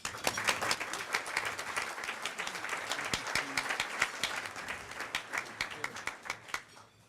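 An audience at a Rotary awards ceremony claps steadily, with many crisp overlapping hand claps. The applause is fairly close and slowly thins toward the end.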